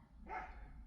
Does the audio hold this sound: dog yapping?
yes